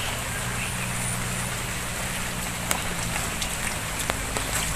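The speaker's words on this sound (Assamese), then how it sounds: "আহি পাইছোঁহি আৰু বৰষুণ পৰিছে" Steady rain falls on a rural Assamese homestead near a brimming pond during the rainy season, a dense, even hiss with a few sharper drop taps, heard alone with no talk.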